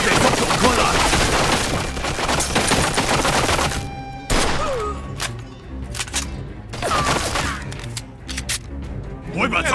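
Heavy gunfire in Mafia II: Definitive Edition, with bursts of automatic fire and sharp single shots echoing in a firefight while someone talks over the shooting.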